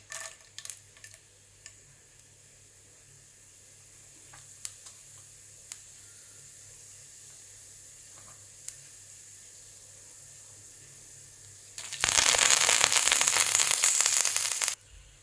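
Mostly quiet room tone with a few faint ticks, then a sudden loud crackling hiss of mustard seeds popping in hot oil for the last few seconds.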